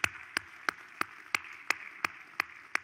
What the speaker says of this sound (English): everybody ought to just stand up and give Stacy a round of applause for her ministry